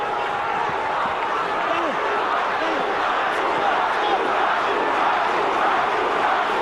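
Dense roar of a rugby crowd chanting at an Argentina versus Australia match, sustained and loud throughout, with a commentator talking over it.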